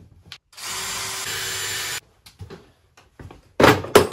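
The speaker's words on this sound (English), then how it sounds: "So I'm gonna pre-drill this" A power drill whirs steadily for about a second and a half while pre-drilling wood for a shooting bench, then stops, followed by a few light knocks and scrapes nearby.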